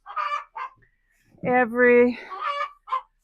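Chickens in a backyard coop give a few loud honking, clucking calls around a brief spoken word, with short vocal bursts before and after.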